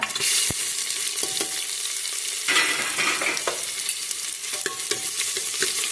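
Onion frying in a pan with roasted garlic for khichdi makes a continuous close sizzle and crackle, broken by scraping stir strokes and a few sharp clicks of the utensil.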